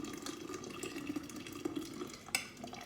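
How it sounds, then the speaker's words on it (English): Hot tea is poured from a pot into a jar holding sugar, a steady close liquid trickle with small splashes and one sharp clink near the end, no voices. "now I'm gonna pour this hot tea into my jar with the 3/4 cup sugar in it"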